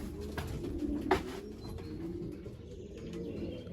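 Racing pigeons coo softly at the loft during old-bird race arrivals, a low murmuring coo with a brief louder call near the middle over steady background noise.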